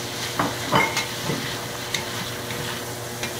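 Sausage browns in a hot pan as onions and peppers go in, a steady sizzle broken by a few scraping stirs and soft clatters, close and alone with no voices.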